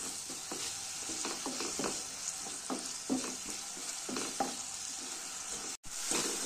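Onions with a little salt, cooking for a dhaba-style dal tarka, fry with a steady nearby sizzle. Repeated stirring scrapes run through it, with a brief drop-out near the end and no voices.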